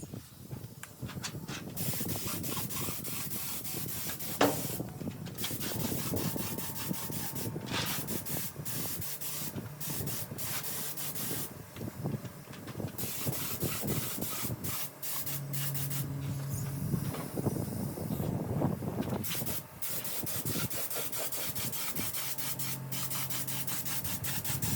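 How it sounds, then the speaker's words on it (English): Steady hissing spray of a silver base coat being applied to engine parts such as a gearbox, continuous and close, with faint rattles and background noise underneath. "I'm just doing a base coat now, and then I'll do the clear over the top."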